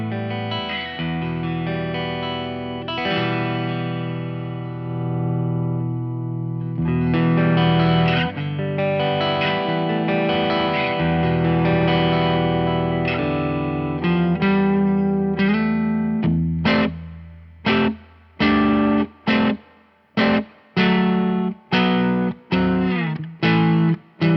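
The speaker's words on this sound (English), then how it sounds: "The reverb in this it's digital. It's not a spring, but it sounds all right." Electric guitar through a Laney Ironheart amp plays ringing clean chords with a spacious, lingering digital reverb, then shifts to short, choppy strummed stabs separated by brief gaps.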